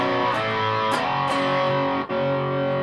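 A Westone Raider electric guitar, a one-pickup model, plays through heavy distortion: sustained overdriven chords ring close and loud, with brief pick attacks and a short break near the end.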